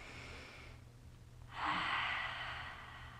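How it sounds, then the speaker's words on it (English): A child-paced deep breath during a kids' yoga pose: a slow, soft airy inhale or exhale, close and gentle, with nothing else around it. "Take a nice deep breath here."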